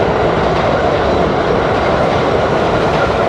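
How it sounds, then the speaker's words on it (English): A train rolls past near Vernon Boulevard in Long Island City, Queens, a loud, steady rumble with rail clatter filling the whole stretch, close by and with no talking. "There goes the train."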